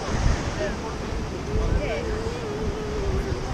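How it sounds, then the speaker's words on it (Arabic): Pacific Ocean surf and wind on the California coast wash in a continuous roar, with gusts buffeting the microphone and a voice talking faintly over the waves. "هي طبعا هذا المحيط الهادي وراي."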